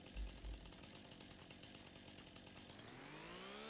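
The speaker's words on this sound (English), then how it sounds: "I'm running through your field with my chainsaw. Chainsaws ready." A chainsaw in the video game Farming Simulator 25 runs with a steady buzzing drone after two low thumps, its pitch climbing toward the end as the engine revs up, fairly quiet and without speech.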